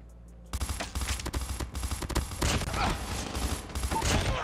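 M16 rifle fire in the mobile shooter Call of Duty Mobile, rapid bursts of loud gunshots crackling in quick succession over a busy game soundscape, starting abruptly after a brief quiet moment and continuing almost without pause.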